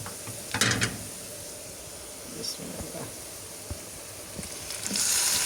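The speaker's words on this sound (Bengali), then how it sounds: "এখন আমি এখানে মেখে রাখা চিকেনটা অ্যাড করে দেবো" Marinated chicken tipped into a pan of frying onions and whole spices, giving a faint steady sizzle with a brief louder burst of hiss and clatter near the start and a rising hiss at the end.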